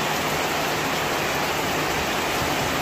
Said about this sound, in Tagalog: Grabe, ang lakas pa rin ng ulan guys.